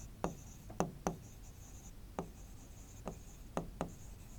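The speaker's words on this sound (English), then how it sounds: "So you have to write prime meridian here." Pen marks on paper: a handful of short, distinct scratching strokes in an irregular rhythm, close and soft, over a faint steady hum.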